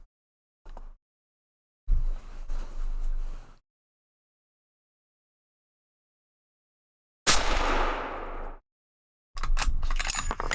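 A Savage 110 Precision rifle in .300 Win Mag fires a 220 grain Hornady ELD-X load over 69.0 grains of Power Pro 4000 MR powder. A single loud, sharp blast with a trailing decay stands among brief bursts of handling clatter and silence.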